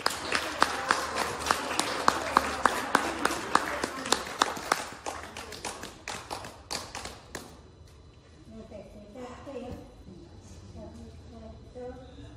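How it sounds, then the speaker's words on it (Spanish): Applause for a festival ballet troupe at a community celebration, many hands clapping in quick sharp bursts for about eight seconds, then fading into scattered murmuring and distant voices. "Así que fuerte el aplauso para el ballet"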